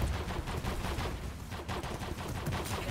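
Rapid gunfire from a large mech in the Roblox game Overheat, a dense, continuous stream of shots at fairly low volume with no pauses.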